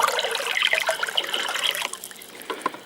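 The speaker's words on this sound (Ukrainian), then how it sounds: "Добавляємо туди вапно і вапно теж перемішуємо, щоб була однорідна маса з водою." Water sloshes and splashes steadily as lime is stirred into water for tree whitewash, a thick wet mixture, the churning easing off toward the end.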